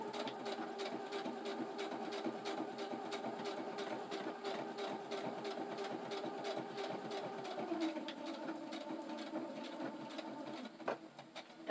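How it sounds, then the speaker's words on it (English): A sewing machine runs steadily stitching a fabric pouch, a fast even needle chatter that holds for nearly the whole stretch before slowing and stopping near the end. "Do your locking stitches."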